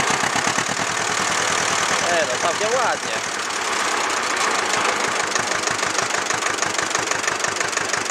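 A 1963 Ursus C-325 tractor's engine idles with a heavy, steady knocking chug, then briefly revs and settles back, loud and close, while someone speaks over it.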